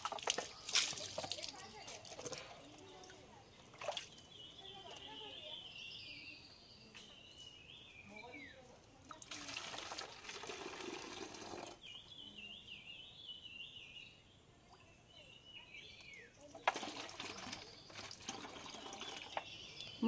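Cold water runs from a tap into a container outdoors, a steady splashing pour that surges in loud broadband bursts and eases between them, with voices talking over it.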